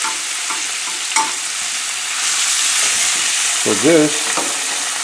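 Anchovies frying in hot oil or butter with minced garlic in a hot pan, a steady loud sizzle with a few stirring scrapes and knocks, and a brief voice speaking partway through.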